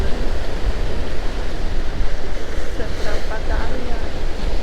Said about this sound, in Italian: Peccato al vento, c'è un forte vento